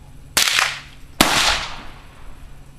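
Two sharp, loud gunshots at a shooting range, spaced under a second apart, each followed by a short reverberant tail, with no talking.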